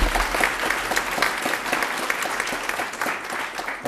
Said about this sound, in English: it's worth applauding